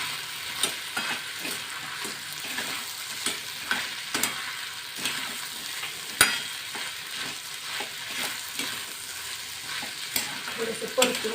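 Taro stalks are stirred as they fry in a pan, with a continuous bright sizzle under repeated scraping spatula strokes and occasional sharp clicks, close and alone without talk.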